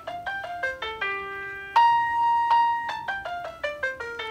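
Playscore 2 app plays back scanned sheet music as a clean synthesized melody, a sequence of distinct tones with a long sustained note in the middle, moderately loud with no talking.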